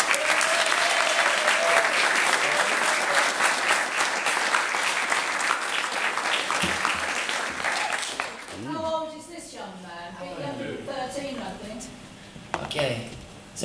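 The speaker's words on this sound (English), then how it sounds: "So if you give him a massive round of applause," A club crowd at a festival gives a loud round of applause that fills the room, then tapers off after about eight seconds into scattered claps, cheers and voices.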